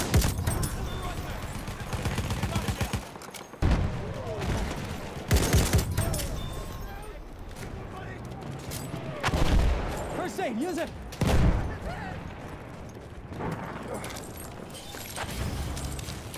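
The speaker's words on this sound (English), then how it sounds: "Machine gun right there!" Gunfire from the video game Battlefield 1, with repeated loud bursts and volleys throughout, booming impacts near the start and middle, and voices shouting over the battle.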